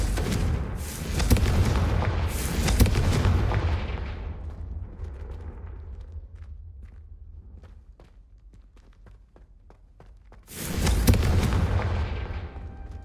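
The Confringo explosive spell bursts in Hogwarts Legacy with loud booming blasts at the start, the noise fades into quieter scattered impacts, and then a second heavy explosion erupts near the end.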